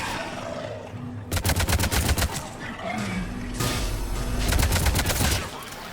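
Gunfire in the Mass Effect video game, with rapid bursts of loud automatic shots in two long volleys separated by a short break, and faint game voices underneath.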